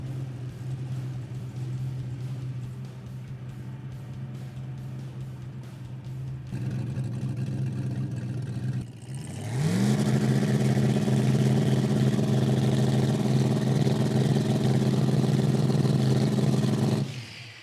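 A 1000 hp Pontiac idles with a deep lumpy rumble, then its engine revs up sharply and holds a loud, sustained roar as the car sets off on a test drive.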